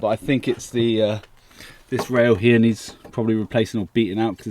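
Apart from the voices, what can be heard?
No everyday noises stand out.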